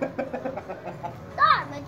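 Indistinct voices talk softly, then a single short rooster call rises near the end, fairly close and louder than the talk.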